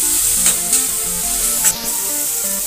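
Ghugni masala is stir-fried in a pan: a soft continuous sizzle broken by a few scraping stirs, with faint tonal music underneath.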